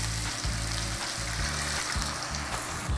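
Steady, loud sizzling and bubbling fill a pan of cooking spices with lemongrass, bay leaves and galangal as water is added for an Indonesian egg stew, a dense continuous fry with no talk.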